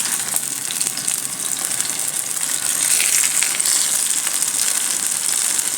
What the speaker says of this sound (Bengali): ভাজাগুলো দিয়ে দিচ্ছি।